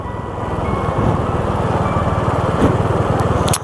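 Honda Vario 125 scooter engine while riding, a close, loud, rapidly pulsing small-engine putter under steady wind noise, with no talk.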